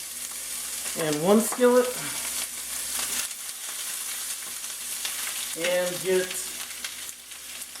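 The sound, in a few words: butter and onion frying in a skillet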